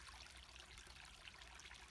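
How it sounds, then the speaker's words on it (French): A river flows in a steady, soft trickle and babble, faint and continuous with no voices, like a calm stream heard from nearby in a quiet meditation setting. "On entend le son de la rivière,"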